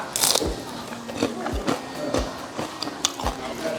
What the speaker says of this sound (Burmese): စုပ်ပုတ်ရွက်ကြော်လေးရလေလေကျွတ်ကျွတ်ရွတ်နဲ့အရန်စားလို့ကောင်းမယ်